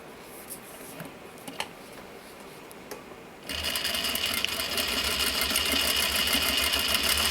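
A sewing machine stitches a recycled denim pouch, starting after a few quiet clicks and handling sounds, then running in a steady, close, rapid whir.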